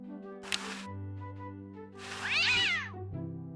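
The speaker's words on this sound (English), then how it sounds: "What a pretty pussycat." A cartoon cat in the adventure game Day of the Tentacle gives a short mew and then a longer, drawn-out meow over a steady game music bed, both loud and close.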